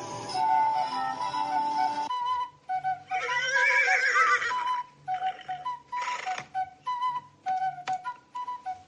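A horse whinnies loudly and at length, followed by a series of shorter snorts and neighs in an uneven rhythm, close by.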